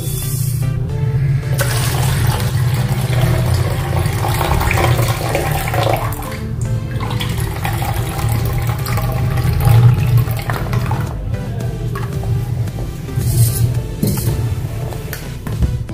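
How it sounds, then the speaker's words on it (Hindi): Rinse water is poured off washed chickpeas into a sink, a steady loud rushing and splashing pour that runs without a break the whole time, with no voices. "अब इसका पानी निकाल देंगे।"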